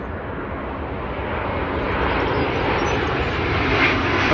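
A Virgin Atlantic Airbus A350 jet on landing approach at Heathrow Airport, a broad steady engine roar that swells gradually as it draws nearer.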